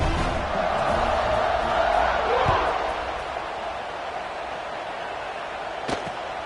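A big football stadium crowd at an LSU vs Ole Miss game buzzes in a broad, steady roar that eases slightly partway through, with a brief sharp knock near the end.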